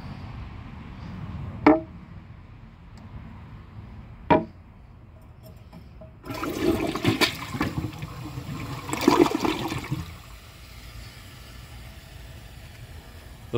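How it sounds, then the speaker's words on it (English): A 2012 Glacier Bay high-efficiency toilet gives a short flush: two sharp clicks of the handle, then a few seconds of rushing water that surges and drains away, leaving a faint trickle. "The flush is very short."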